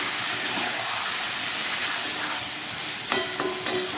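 Steady, dense sizzling of mutton curry being sautéed in a pan with spices, continuous frying hiss with a couple of brief scraping stirs near the end, no talking.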